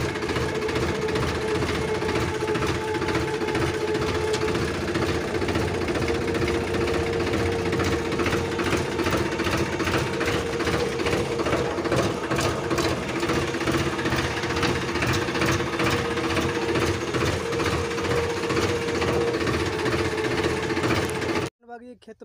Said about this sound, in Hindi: यहाँ पर ट्रैक्टर खड़ा है, इसको स्टार्ट करेंगे अभी